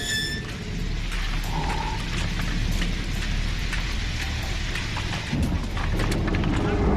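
Heavy rain pours steadily and loudly across the whole stretch, a dense hiss with scattered drop impacts and a low rumble beneath, the downpour soaking a sixteenth-century siege camp outside Vienna.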